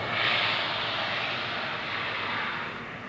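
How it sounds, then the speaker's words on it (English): A biplane passes overhead above a garden at Greenpoint Library, heard as a steady, broad aircraft engine drone that stays fairly loud and eases off slightly toward the end. "Whoa, look at that! Weird biplane. Where's that going?"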